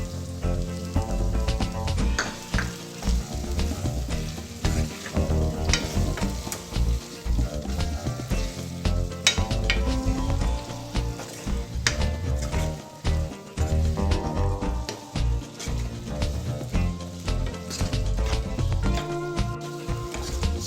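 Chili and tomato paste sizzles in a pan with cooked bottle gourd pieces for Telugu-style dal, a continuous frying hiss with stirring scrapes and clatter, with music playing alongside.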